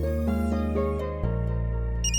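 A phone ringtone plays in a Hindi-dubbed South Indian film. A bright electronic melody of bouncing notes sits over steady low tones, loud and close, with no one speaking.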